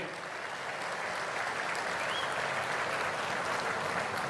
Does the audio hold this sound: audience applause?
yes